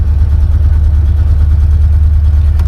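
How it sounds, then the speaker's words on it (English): The 350 engine of a 1956 Chevrolet Bel Air running, heard through a cabin with no sound deadening as a loud, steady, low rumble, close and continuous without a break. "especially these 50s cars, you know, there wasn't no sound deadening or anything, so you can hear everything from the engine compartment."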